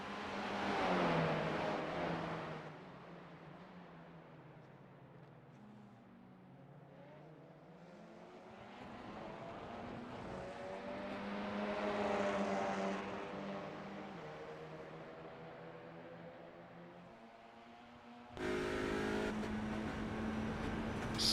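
Race cars in an Audi Challenge event roar around the track on the final lap, engines rising and falling as they pass, loud and continuous with revving surges and a burst of close engine noise at the end.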